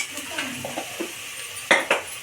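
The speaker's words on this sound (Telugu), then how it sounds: "ఇప్పుడు బాగా కలుపుకుందాం." A spoon stirs ginger-garlic paste in hot oil inside a robot cooker pot, giving soft, uneven scraping through the middle and two sharper metallic clinks against the pot near the end. The sound is close and fairly quiet.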